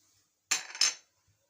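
Baking powder is scooped with a metal spoon from its container, two quick scraping clinks close together, crisp and near, set against near-silence.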